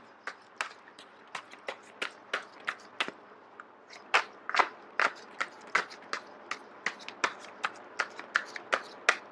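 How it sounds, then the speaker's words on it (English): Crisp, rapid riffling snaps of tarot cards being shuffled, repeating in quick irregular bursts close up, with no voices. "I am going to shuffle until the first card drops out."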